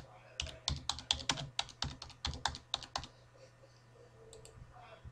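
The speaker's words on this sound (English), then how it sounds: "Type enter address." Computer keyboard keys typed in a quick burst of a dozen or so crisp clicks over about three seconds, then a few softer taps near the end, close and clear against a low hum.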